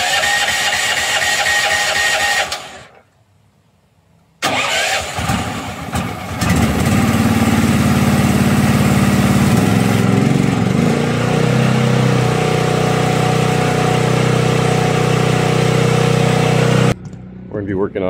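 A power washer engine used for solar panel cleaning runs loudly, cuts out briefly, then restarts and throttles up to a steady, droning roar that continues before stopping near the end.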